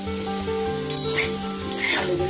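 Chillies fry in oil in a pan, a close, continuous sizzle with two louder hissing bursts as the contents are moved.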